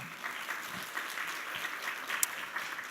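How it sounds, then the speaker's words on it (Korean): Warm round of audience applause inside a church during a Wednesday evening revival service, many hands clapping steadily and moderately loud for a few seconds with no talk over it. "박수 한번 해주세요."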